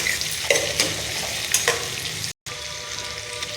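Onions and green chillies fry in gingelly oil with mustard seeds, giving a loud, steady sizzle that is stirred several times, with a brief dropout partway through.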